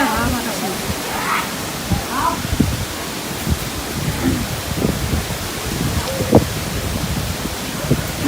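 A heavy Kalbaisakhi-type storm sweeps a Bangladeshi village, with loud, steady rain and wind roaring without pause while a person talks over it.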